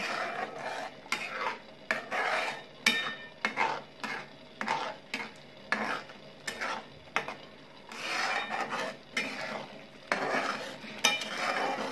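A spoon stirs and scrapes masala roasting in a pan for a paneer and green-pea vegetable dish, making rhythmic scraping and rubbing strokes roughly every second with a faint sizzle underneath.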